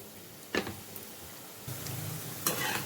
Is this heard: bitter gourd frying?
yes